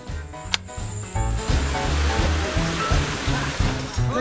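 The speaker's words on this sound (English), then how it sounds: "The water reaches the village." Water gushing from a newly connected pipe into a mountain village, a strong continuous rushing splash with a rhythmic low pulsing, close and loud, after a brief sharp knock at the start.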